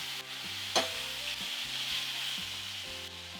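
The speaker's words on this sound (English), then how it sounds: "Add some of the shallots, garlic, the fresh herbs, rosemary and thyme." Shallots, garlic, fresh rosemary and thyme sizzle steadily in a hot pan, close and even, with a brief clatter as they are stirred near the start and no talking.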